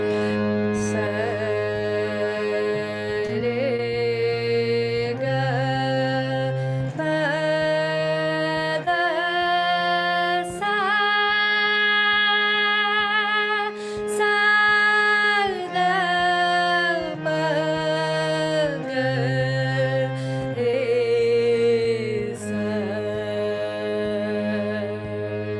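Hindustani classical performance of Raga Bhupali, a steady sustained drone under a slow melodic line of held, gliding notes stepping through the pentatonic scale, loud and continuous with no talking.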